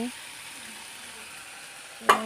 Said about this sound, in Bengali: আমি ভালো করে নেড়ে চেড়ে দিচ্ছি